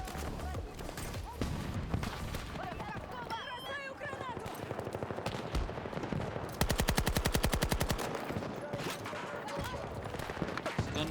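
Rapid automatic gunfire from a gun in a video game, a steady rattling burst of shots running for several seconds over dense game sound effects and background noise.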